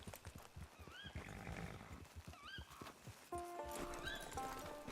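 A horse in the video game Red Dead Redemption 2 clops along steadily and gives a couple of whinnies over soft music. A bright tonal chime enters near the end.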